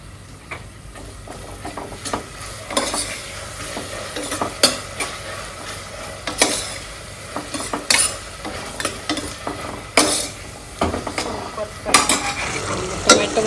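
Ginger garlic paste stirred and fried in a pan while cooking tomato bath in a rented kitchen, with a spoon scraping and clacking in irregular strokes over a constant close sizzle.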